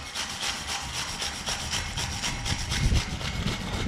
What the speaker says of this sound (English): give it a scrub with a wire brush just to get rid of all that loose rust